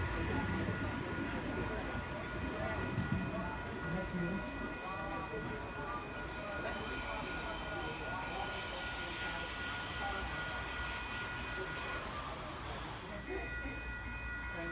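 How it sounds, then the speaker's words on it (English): A passenger train pulls away from Koolewong station on the Central Coast line, a steady broadband rumble of wheels and traction motors holding for the whole stretch with a slight swell near the end, close and continuous without talk. "H28 now departing for Hamilton."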